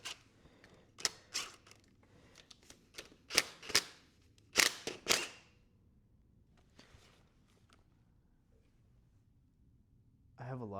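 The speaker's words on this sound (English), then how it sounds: "Just loosening up these bolts, I guess." Tools loosening bolts on a motorcycle, heard as a cluster of sharp metallic clicks and ratcheting snaps in short bursts, fairly close, with quiet gaps between them.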